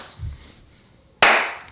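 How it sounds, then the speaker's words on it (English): A single sharp hand clap rings out loud and close after a brief soft sound, then fades quickly into a short room echo. "That is a better clap."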